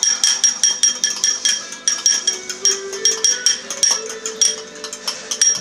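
A spoon clinks rhythmically against a bowl while bread dough ingredients with baker's yeast are stirred, a steady run of bright metallic taps heard close and alone.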